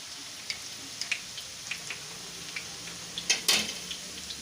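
Garlic tipped into hot oil over lowered heat for a corn-kernel gravy shaak gives a faint, steady sizzle dotted with light crackles and a few soft taps.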